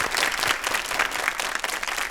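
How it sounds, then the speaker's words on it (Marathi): Steady audience applause with many hands clapping at once, a dense, sustained patter from a seated crowd at an event about welcoming the birth of girls, continuing without pause and no voices over it. "त्यांच्यासाठी एकदा टाळ्या वाजवूया आपण"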